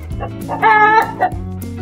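A farm chicken clucks in a short run of loud, close calls, with one brief louder squawk in the middle, heard alone without talk.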